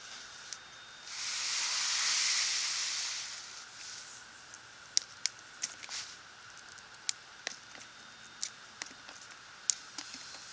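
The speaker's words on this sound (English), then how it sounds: "that noise is somebody pulling a garden hose by" A garden hose dragged past outdoors in a garden, a broad soft hiss swelling for a couple of seconds then fading, followed by scattered light clicks and taps, fairly faint and with no talking.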